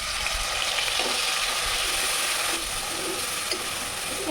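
Onion fries in hot oil in a pan, a loud, dense, continuous crackling sizzle that holds steady throughout with faint scrapes now and then, and no voices.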